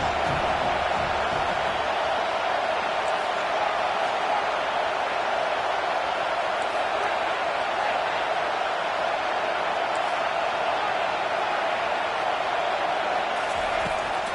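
College football stadium crowd at Arkansas versus Miami roars in a dense, constant wall of noise on a big third down, loud and unbroken with no distinct voices standing out.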